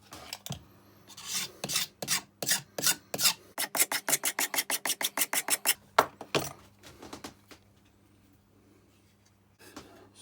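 A rasp files and shapes the wooden knob of a Gransfors Bruks Wildlife hatchet handle in steady, rhythmic strokes that quicken into a fast run of close, loud scrapes, then pause before a last stroke.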